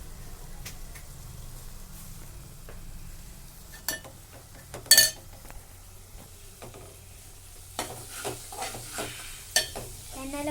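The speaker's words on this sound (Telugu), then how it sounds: "ఇప్పుడు వేసేసింది ధనియాల పొడి. ఇప్పుడు మళ్ళీ మిక్స్ చేసేద్దాం." Coriander powder is stirred into a frying dish, with sharp spoon scrapes and clinks against the pan over a soft, low sizzle. The strokes come in irregular bursts and grow busier toward the end.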